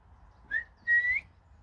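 Two short, rising human whistles, one brief and one longer, sound fairly close against a quiet background, as if calling for someone.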